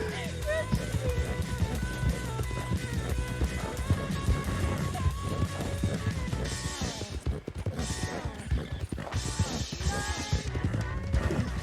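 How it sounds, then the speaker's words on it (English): Horse hooves clip-clop in a steady rhythm beneath a dense layer of music and voices, with the footfalls fairly close but partly masked throughout. "The horse is tuckered out."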